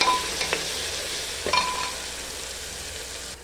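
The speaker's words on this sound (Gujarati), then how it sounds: "એને થોડો ફ્રાય કરી લેવો તેલમાં કાંદા સાથે." Green masala sizzles in hot oil with onions in a pan for methi dal, a close, steady hiss broken by a couple of quick spoon clinks, with no voices.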